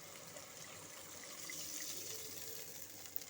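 Washing water from a bowl that held ground spinach is poured into a cooking pot of spinach chicken, a steady soft watery gush and splash lasting a few seconds, fairly quiet and close, with no talking.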